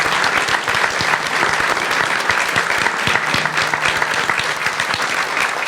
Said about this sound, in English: So how about a round of applause for all those?